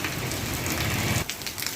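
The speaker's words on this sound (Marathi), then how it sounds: "आजचा पाऊस असा येत आहे लगेचच येत आहे आणि लगेचच थांबतसुद्धा आहे" Steady heavy rain pours down in Wardha, a dense hiss of drops on surfaces that briefly thins near the end, with no voices.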